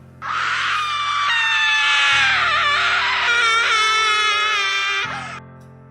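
Sayori from the game Doki Doki Literature Club lets out a long, loud, piercing scream that holds for about five seconds, wavering in pitch before cutting off abruptly.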